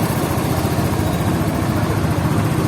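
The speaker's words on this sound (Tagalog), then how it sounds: "start niya na oh meron pa ito, ni-start na ni Kuya" A brand-new Motorstar Easyride 150 FI V2 motorcycle with zero kilometres idles after being started, its engine giving a steady, close, loud putter without a break.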